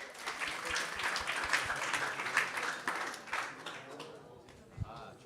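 A youth audience at a devotional gathering applauds in a loose, moderate burst of clapping that thins out and fades after a few seconds.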